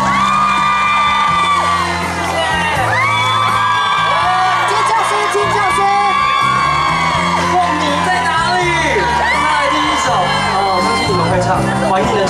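A crowd at a Taiwanese memorial press event for a singer whoops, shouts and cheers to welcome a singer, loud and sustained, mixed with tonal music throughout.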